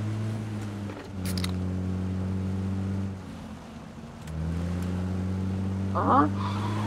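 A car drives in the video game PUBG, its engine droning steadily with a pitch shift partway through as it changes speed, loud and close throughout.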